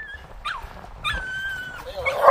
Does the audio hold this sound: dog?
yes